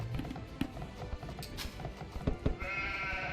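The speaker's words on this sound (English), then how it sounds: "It's a lot of sheep." Sheep bleat amid the clip-clop of hooves and busy unit sounds in a match of the strategy game Age of Empires II, several short calls scattered over a steady game soundscape.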